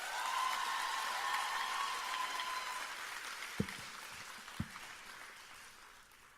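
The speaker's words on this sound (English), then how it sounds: "we all deserve to give ourselves a lusty round of applause" Applause from a graduation audience at the University of Trinidad and Tobago, a broad steady patter filling the hall that gradually thins and fades, with a couple of sharp thumps near the end.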